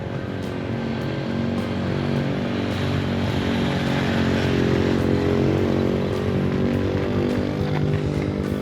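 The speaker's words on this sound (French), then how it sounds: "On vient de louer un scooter pour aller un peu visiter les environs." A rented scooter being ridden through the countryside in Cambodia, its small engine droning steadily and loudly for the whole stretch with wind noise, no talking.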